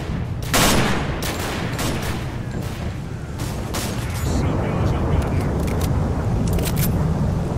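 Gunfire in S.T.A.L.K.E.R.: Call of Pripyat with the Misery mod: rapid bursts and single shots crack repeatedly at close range throughout, over a steady noisy background.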